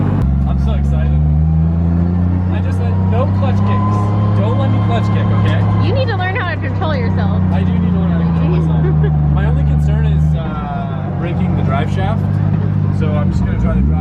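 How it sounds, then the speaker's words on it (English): A turbocharged 1.5JZ engine fitted with a new intake drones and hums steadily during a drive, its note dipping briefly near the end, while people talk over it. "My new intake, the turbo sounds way different."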